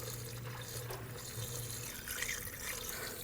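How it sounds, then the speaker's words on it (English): Coolant, a 50-50 mix, poured through a funnel into a 2007-2013 BMW 328i 3.0L, a steady, faint trickling and gurgling flow, continuous and close. "Just going to use a funnel and pour in the appropriate coolant"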